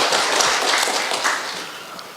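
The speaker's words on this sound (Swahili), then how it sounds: "Makofi." Audience applause in a Machakos county government event hall, a steady broadband wash of clapping sustained for about two seconds and fading slightly at the end.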